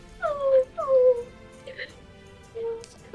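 A voice imitates a puppy whimpering during a tabletop role-playing game, giving a few short, high, falling whines with pauses between them and quiet room noise in the background.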